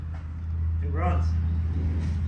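A long-stored barn find Datsun 240Z engine runs for the first time in 30 years, idling as a steady low rumble throughout while a voice briefly speaks over it.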